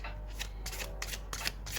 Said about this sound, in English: Let's keep shuffling because that card didn't jump.